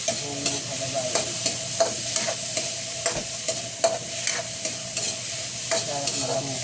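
Onions, garlic and tomatoes sauté in a little oil in a pan for sinigang na bangus, with a steady sizzle under repeated scraping stirs at a fairly even rhythm, close and alone.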